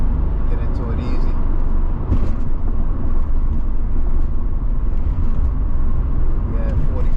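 A 1993 Nissan 300ZX driving above 40 mph, with a steady engine drone and road rumble heard from inside the cabin while someone talks over it.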